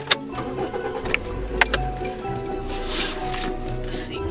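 Keys jangle and a car engine cranks and starts, a few sharp clinks of keys up front, then a short low rumble as the motor catches and settles into a quiet idle.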